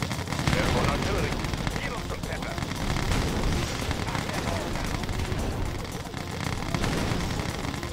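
Airborne artillery firing in the video game Red Alert 2, a dense, continuous barrage of loud blasts and gunfire filling the whole stretch, with game voice lines mixed in.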